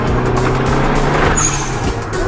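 A Mitsubishi Lancer Evolution 3 fitted with an HKS turbo blow-off valve runs loud and close, a steady engine drone with a brief hissing release of air partway through.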